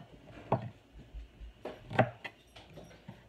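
A knife chops the white parts of green onions on a board in a few sparse, close, sharp cuts. Faint background noise fills the gaps between them.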